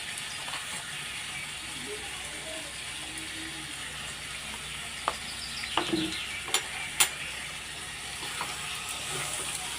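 Prawns frying in a pan with turmeric and salt, a steady soft sizzle running throughout with a few sharp clinks and stirring knocks near the middle, no voices.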